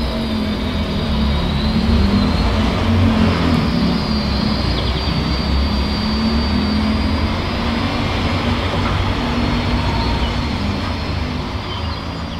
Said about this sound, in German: Eine nervige Schleifmaschine, menschliche Stimmen, Verkehrslärm und wiederum Vögel.